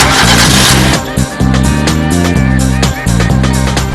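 A car engine running while the car drives around, a loud, steady motor roar with rising revs, with speech-like sounds mixed in over it.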